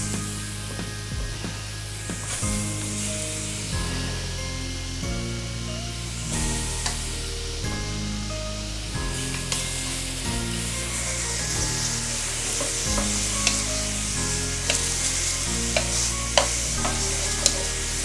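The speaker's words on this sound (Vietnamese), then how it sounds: "Ok, thì chúng ta sẽ áp chảo." Beef searing in a dry hot pan with no oil, a steady loud sizzle and frying hiss with stirring scrapes throughout, continuous and close.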